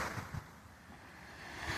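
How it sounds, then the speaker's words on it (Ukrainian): Calm sea in the Bay of Naples, a soft steady wash of gentle waves with some wind rumble across the microphone, faint and continuous with no talk. "сьогодні море у нас спокійне"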